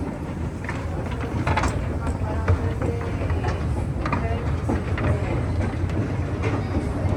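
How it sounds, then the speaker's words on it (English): Historic Otis wooden escalators run at Macy's Herald Square in New York City, a loud, steady mechanical chugging and rumbling with faint clatter, continuous throughout amid busy store ambience. "thankfully the sound of these escalators are actually drowning out, you know, the chugging sound"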